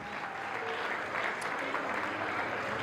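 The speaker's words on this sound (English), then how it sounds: "let's all put our hands together and a big round of applause" Steady, dense applause from a large crowd at a wedding reception as the bridal party enters fills the space, continuous and fairly loud throughout.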